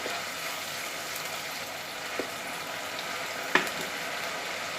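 Ginger garlic paste sizzling in hot oil for chole, a steady soft hiss with a couple of brief clicks and a small clatter, close and moderate in level, no talking.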